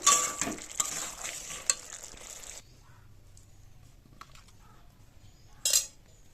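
Cooked figs stirred with a sprinkle of sugar in a pan, a loud scraping and sizzling burst at first, then quiet low hiss with a brief sharp utensil clatter near the end.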